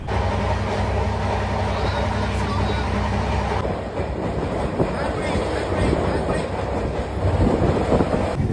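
Rupashi Bangla Express pulling into platform 2 at Medinipur station, a loud rumbling roll of train wheels with clattering over rail joints and a faint high squeal, heard from on board and continuous.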